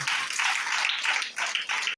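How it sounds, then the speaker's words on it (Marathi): A congregation at a prayer centre claps in thanks to Jesus, a dense and lively wash of hand clapping that rises and falls in rhythmic waves before cutting off abruptly. "आपण जोरात टाळ्या वाजवून प्रभू येशूला धन्यवाद देऊया."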